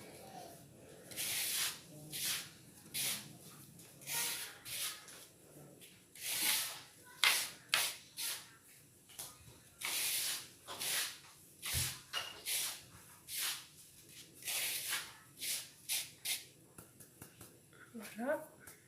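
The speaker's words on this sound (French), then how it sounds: "on mélange bien notre huile, le gras et le sel" Oil, fat and salt being worked together by hand for Kabyle galette (arhlum) dough, giving repeated close, soft rustling and squelching strokes in an irregular rhythm through the whole stretch.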